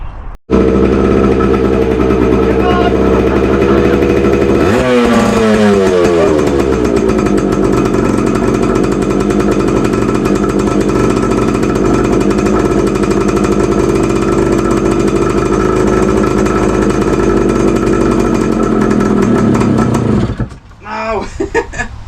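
A 42-year-old rare Suzuki motorcycle engine runs steadily and loudly up close, with a brief rev rising around the start, then a long even idle that cuts out near the end.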